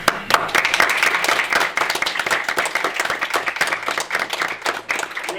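Applause at a school committee meeting, a small room of people clapping steadily and fairly close for several seconds, without talk over it.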